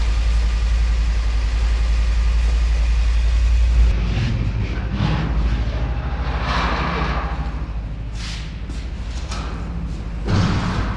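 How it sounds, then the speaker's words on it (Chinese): A motorcycle engine idles nearby with a steady low rumble, broken by a thump or two and some handling noise partway through. "我们开摩托车去。"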